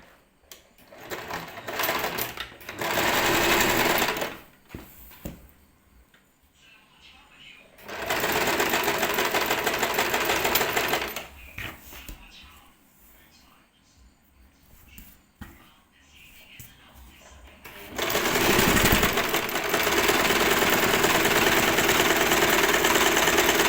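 Sewing machine stitching the side seam of a petticoat, running in three long loud bursts separated by quieter pauses where someone speaks.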